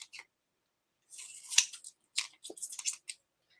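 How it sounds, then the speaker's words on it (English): Scissors snip through a layer of paper to cut it in half. A few quick, faint, crisp cuts come in short clusters with quiet gaps between them, close by. "We're gonna do like that and just cut it in half."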